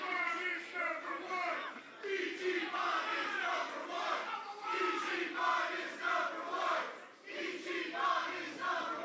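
A wrestling crowd at a KJ Orso versus Ichiban match cheers and shouts steadily, a dense, sustained roar of many voices with swelling peaks, heard from a moderate distance.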